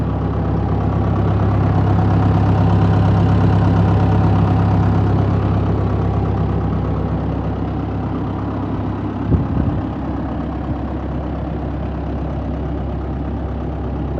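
A Claas Ares 567 ATZ tractor with a 115 hp John Deere engine and MX front loader idles nearby, a loud, steady low rumble throughout with one brief thump partway through.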